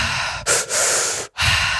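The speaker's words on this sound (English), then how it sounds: "So doing breaths like" Deep, forceful breaths close to the mic, as in a breathing exercise for anxiety: a long loud inhale or exhale, a short gap, another long breath, a sharp pause, then a third.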